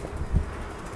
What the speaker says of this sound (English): Sorry about that wind again.